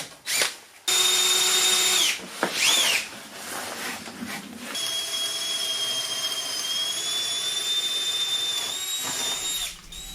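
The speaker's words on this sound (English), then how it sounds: "I got all sorts of holes to drill, some bigger, some smaller" A power drill whines close by in a few short bursts, drilling holes for a PEX plumbing install during a home renovation, pitch rising and falling, then runs in one long, steady high-pitched spin.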